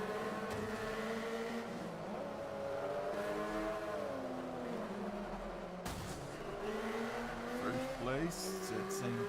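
Race car engines in Forza 5 howl through rising and falling revs as gears shift, with a sudden burst of tire and impact noise partway through, while a voice talks over the racing.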